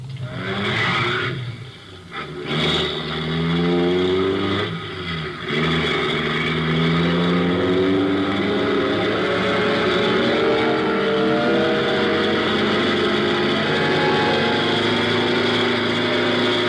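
A car engine roars continuously as it races toward a roadblock in a 1951 radio drama, loud and close, its pitch rising and wavering after a brief dip early on, with no voices over it.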